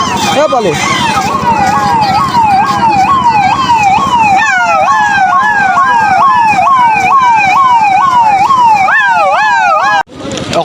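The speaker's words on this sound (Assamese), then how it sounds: "এম্বুলেঞ্চ আহিছে গাইজ।" A loud wailing ambulance siren cycles up and down repeatedly, close by over traffic noise, cutting off abruptly near the end.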